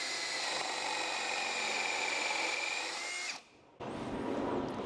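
A Cerycose cordless impact wrench, DeWalt 20V battery compatible, drives lag bolts with a loud steady whir for over three seconds, then cuts off briefly before spinning up again, with no talking.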